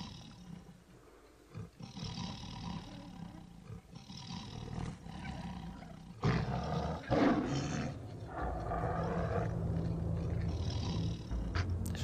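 A lion in the video game Gabriel Knight 2 gives deep, rumbling roars that grow louder midway, with steady background noise underneath and no talking.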